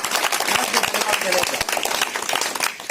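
A crowd claps together at an outdoor BJP village meeting in Telangana, giving three seconds of dense, loud, continuous applause with a few voices mixed in.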